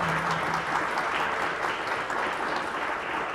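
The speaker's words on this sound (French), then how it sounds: "On vous applaudit." An audience applauds after a military geography presentation at an academic session. The clapping is steady and sustained at moderate distance, with no pauses.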